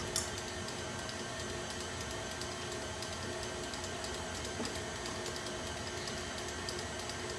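An electric mixer runs at a raised speed while beating batter for copycat oatmeal creme pies, giving a steady, even whir that stays constant and moderately loud throughout, with no talking.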